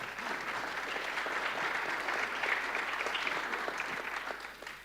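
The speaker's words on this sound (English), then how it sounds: "Round of applause for that, huh?" A crowd at an investor annual gathering gives a round of applause, sustained and moderately distant, with many hands clapping at an even level throughout and no talking.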